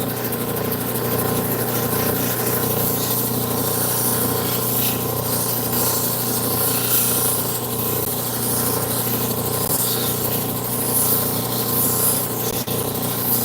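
A lapidary wheel polishes a piece of jasper or turquoise, giving a steady, continuous whirring rub with a constant motor hum that stays even and close throughout, with no talking.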